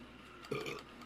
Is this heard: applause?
no